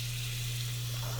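A steady, close sizzle of onion and garlic frying in hot butter in a pan, continuous and even, with a low electrical hum underneath.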